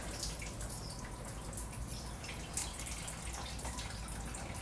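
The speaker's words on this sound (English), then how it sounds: "Make sure you have the pan down there because obviously it will leak coolant." Coolant drains from a car during a coolant flush and thermostat replacement, falling into a pan below as a steady, soft wet patter and drip that runs through the whole stretch with no talk.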